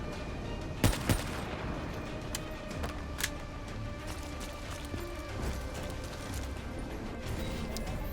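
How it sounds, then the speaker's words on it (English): Sniper rifle fire in the video game Black Ops 3, a couple of sharp loud cracks early on over a steady bed of game ambience and machinery hum, with fainter impacts later. "We'll switch to the Firefly Swarm so that the Firefly Swarm will distract him while we unload on him with the sniper rifle."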